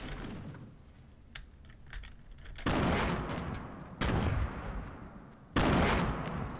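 Gunfire in Fortnite: faint clicking and distant pops at first, then three loud, sustained bursts of heavy weapon fire, each cutting off abruptly, with keyboard tapping underneath.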